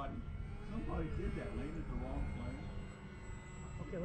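An FMS Ranger 1800mm Cessna radio-controlled model plane flies overhead, its steady engine buzz running continuously under close, ongoing conversation between people.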